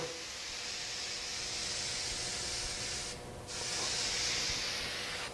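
Spray glue hisses steadily from a spray bottle held close to wood for a few seconds, breaks off briefly, then resumes, loud and continuous, with no talking.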